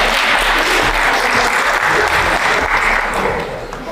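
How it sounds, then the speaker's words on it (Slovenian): Applause breaks out from the audience at a public debate on youth independence, a steady, close crowd of clapping hands that holds evenly and begins to thin near the end. "Aplavz."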